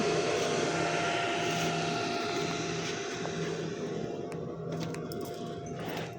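Circular knitting machine running in a workshop, a steady dense mechanical whirr with a constant hum underneath, continuous and fairly loud throughout, with no talking.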